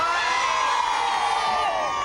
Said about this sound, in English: Oh, look at that crowd. Marvellous.